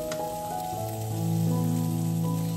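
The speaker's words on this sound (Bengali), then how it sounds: "আর এক পাশে হচ্ছে রুই মাছ ভাজা" Rohu fish pieces coated in turmeric and salt fry in a pan with a steady, continuous sizzle, accompanied by faint sustained tones in the background.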